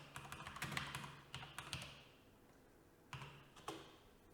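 Quick bursts of keystrokes on a computer keyboard, typed in short clusters with brief pauses between, quiet and close.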